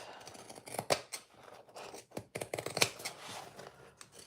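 Pinking shears cut through fabric in quick, close snips, a crisp crunching of blades closing in irregular bursts with short pauses, fairly quiet and without speech.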